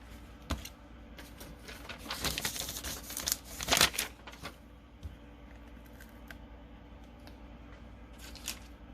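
Scissors cut through a paper card piece for handmade cardmaking, with close, crisp snips and paper rustling clustered in the middle and a few scattered clicks around them.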